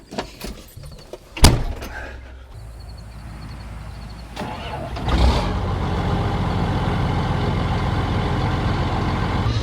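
A John Deere 7810 tractor starts up after a door clunk and some quiet clicks, then its diesel engine settles into a loud, steady idle close by.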